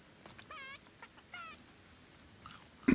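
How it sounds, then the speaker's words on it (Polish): A chicken in the video game Lego Fortnite gives a few short, bright clucks spaced across a quiet moment, fairly close and moderately loud, ending with a sharp louder burst. "dźwięczny ten nasz kurczak"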